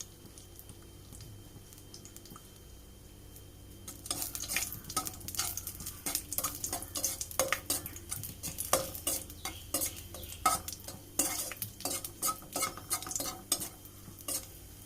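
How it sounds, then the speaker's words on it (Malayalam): Cashews and raisins roasting in hot ghee crackle and sizzle, joined after a quiet start by rapid, busy clinks and scrapes of a spoon stirring in the pan, close and without talk. "നമുക്കിതിലേക്ക് അണ്ടിപ്പരിപ്പ് മുന്തിരി ഇട്ടൊന്ന് റോസ്റ്റ് ചെയ്തെടുക്കാം"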